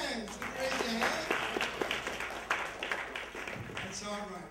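An audience at an event claps their hands in a dense, continuous patter of many hands, moderately distant, with murmuring voices mixed in.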